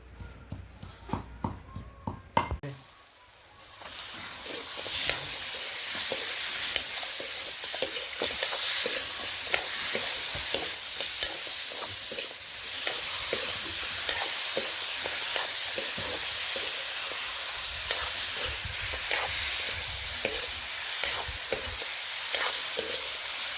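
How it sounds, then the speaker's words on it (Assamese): Pork frying in a kadai sizzles loudly and continuously, with scraping stirs and a few sharp taps at the start, and no talking. "গাহৰি ফ্ৰাই।"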